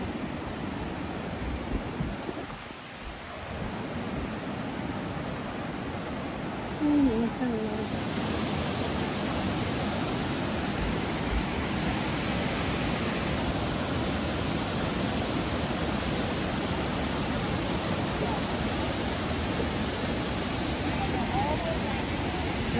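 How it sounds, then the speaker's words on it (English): A waterfall in Dupont State Recreational Forest roars as a dense, steady rush of falling water, loud and continuous throughout, with someone speaking over it. "we're going to get a good view of the waterfall"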